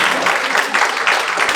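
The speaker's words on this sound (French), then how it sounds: "Allez-y, applaudissez." A brief burst of steady applause from an audience at a French community gathering, dense and fairly loud for under two seconds.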